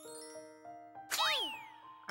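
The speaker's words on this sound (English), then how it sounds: "Hey look, it's the bell we've been ringing at the end of every single level so far" A bell rings in the yarn-crafted platformer Kirby's Epic Yarn, a bright metallic chime struck once with a shimmering, sliding ring that decays slowly after soft tonal music notes.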